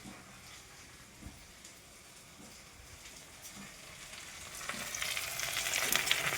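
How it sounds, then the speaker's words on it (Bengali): Okra and potatoes fry for breakfast with a soft, continuous sizzle and crackle that grows louder and brighter toward the end, with occasional stirring sounds and no speech. "আর আজকের ব্রেকফাস্ট হচ্ছে ভেন্ডি আলু ভাজা,"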